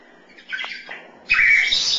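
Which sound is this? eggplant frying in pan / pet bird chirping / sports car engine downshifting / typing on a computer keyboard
pet bird chirping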